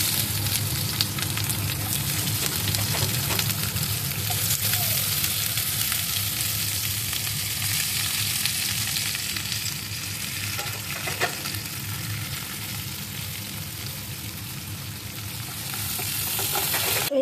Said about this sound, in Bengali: তো তেলটা গরম হয়ে গেছে, এবারে কুচিয়ে রাখা পেঁয়াজগুলো অ্যাড করবো।